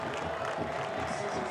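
Large soccer stadium crowd of over seven thousand, a steady dense roar of cheering and babble filling the air without pause, broad and loud throughout the short stretch.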